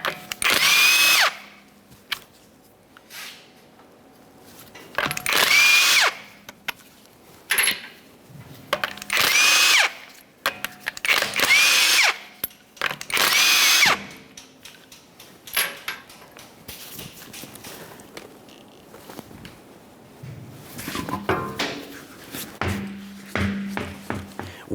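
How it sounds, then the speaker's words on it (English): Power tool bursts spin off the 21mm lug nuts on a Toyota Sienna wheel, about five loud whirring runs with short gaps, followed by lighter clanks of the nuts and tools. "we're going to remove the wheel by removing all 5 of our 21mm lug nuts"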